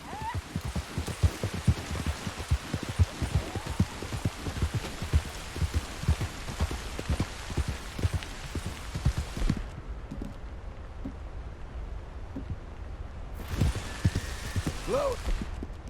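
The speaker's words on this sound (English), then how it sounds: "It's rainy and cold, though." Rain in the video game Red Dead Redemption II: a steady patter of drops on surfaces with scattered louder thuds. It is fairly close and continuous, drops out briefly, then returns.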